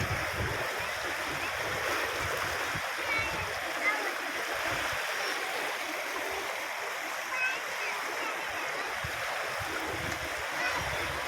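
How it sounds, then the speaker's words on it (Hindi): The Ganges flowing fast at the Prayagraj Kumbh, a continuous soft rushing and splashing of river water heard from a bridge, steady and moderately faint, with distant murmur of people beneath it. "माँ गंगा की कलकल ध्वनि"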